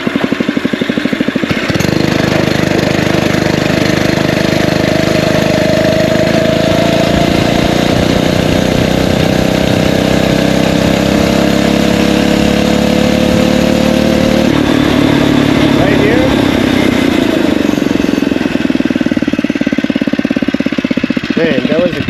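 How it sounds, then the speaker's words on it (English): A Phatmoto All-Terrain 2024 motorized bike engine starts and runs steadily nearby, a loud continuous buzzing drone with a slight pitch rise midway. "we're going to start the engine"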